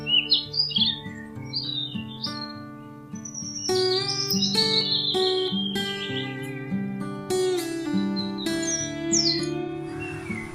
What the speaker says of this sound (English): This is sparrow.